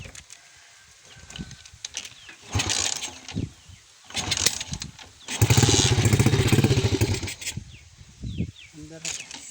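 DIY motorbike engine cranks in short bursts, then catches and runs loud and rough for a couple of seconds before dropping back to uneven revving, up close with a voice speaking between bursts.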